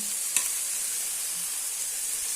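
Long pepper sizzles steadily in a pan with mushrooms and oil, a soft continuous hiss broken once by a short clink of utensil on the pan, with no voices.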